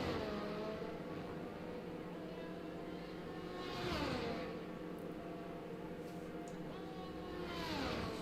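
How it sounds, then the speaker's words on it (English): Race car engine at high revs on an out lap in an online racing league round at ERT Belgium, sweeping past with rising and falling pitch, a strong pass near the four-second mark, heard alone without talk. "It's very nice hearing that car go into Puhan, taking so much speed through it."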